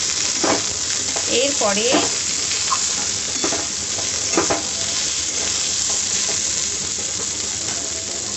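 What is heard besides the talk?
stirring sizzling curry masala after adding salt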